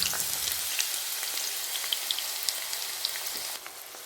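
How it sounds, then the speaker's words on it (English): Chopped onions fry in hot oil in a pan with a bright, close, continuous sizzle and crackle that spatters like light rain, easing slightly near the end. "Once the oil is hot, add the chopped onions."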